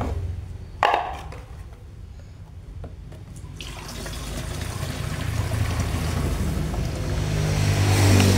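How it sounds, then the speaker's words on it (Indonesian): A motorised sprayer treats grape plants against thrips. After a few faint knocks, a hissing engine-driven spray builds up and grows steadily louder and denser toward the end. "Lalu kita lakukan penyemprotan."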